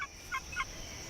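A male Victoria's riflebird displaying on a sunlit perch in an Australian rainforest gives a few brief, sharp call notes, faint against a steady background hiss.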